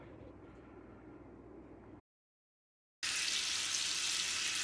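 Bacon and Spam frying together in a pan, with a steady close sizzle and hiss that cuts out for about a second, then returns louder and brighter.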